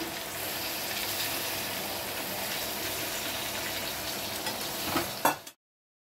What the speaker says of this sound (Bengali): এখন আমি সেদ্ধ হওয়ার জন্য একটুখানি শুধু জল দেব।